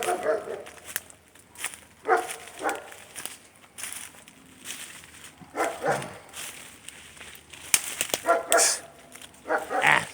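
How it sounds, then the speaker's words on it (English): A dog barks in scattered bursts, some single and some in quick pairs, fairly close, with a voice speaking in between and occasional whimpering yips. "And a loud dog next door."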